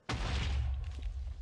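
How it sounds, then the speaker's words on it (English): A single sudden deep boom that hits hard and rumbles away over a second, a close, isolated explosion in the game Super Hostile. "These explosions aren't so bad."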